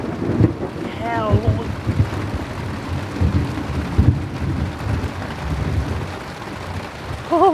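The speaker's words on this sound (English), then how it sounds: "You can still hear the thunder in the background" A thunderstorm with heavy rain during a carp fishing trip in France: a dense wash of rain with low rolling rumbles and thuds throughout, and a few brief voices heard over it.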